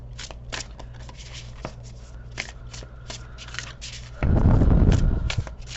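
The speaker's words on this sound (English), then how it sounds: "let's get started by shuffling" Tarot cards are shuffled by hand in a string of crisp riffling flicks and slides, close up, ending in a louder rough burst of cards rubbing together.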